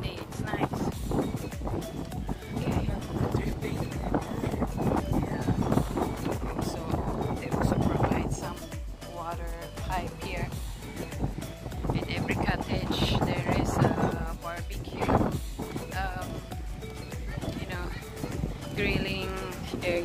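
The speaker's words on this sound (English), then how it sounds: "Now it's windy." Wind gusts across the microphone at Tanjung Batu beach in Muara, Brunei, a steady rough buffeting that runs under a person talking close by.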